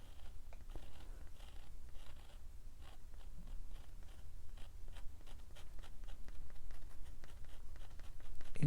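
Pen drawing small shading lines on watercolor paper for a botanical flower illustration, a series of soft, quick scratchy strokes in an irregular rhythm, close and faint, with no talking.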